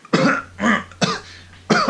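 Three or four harsh, close coughs in quick succession, each a short rough burst separated by brief pauses.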